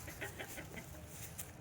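Chicken clucking inside a coop, a series of short, quiet, rapid clucks in an irregular rhythm, heard faintly at a moderate distance.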